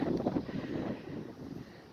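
Wind buffets a microphone with a steady low rumble and gusty roar throughout, with no one speaking.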